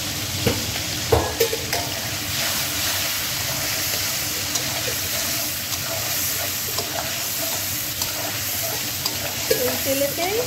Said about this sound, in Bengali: কড়াইতে তেলটা গরম হয়ে গেছে, এবার নুন হলুদ দিয়ে মেখে রেখেছি চিংড়ি মাছটা একটু ভেজে নিয়ে